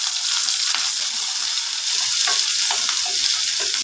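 Dried chillies, garlic and shallots frying in hot oil, a loud close continuous sizzle with crackles and stirring, no talk.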